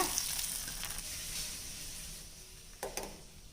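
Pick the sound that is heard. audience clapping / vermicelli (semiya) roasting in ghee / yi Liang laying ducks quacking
vermicelli (semiya) roasting in ghee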